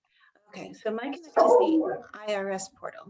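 A pet dog barks and yips repeatedly indoors, mixed in with a person speaking over it, the barks close and moderately loud.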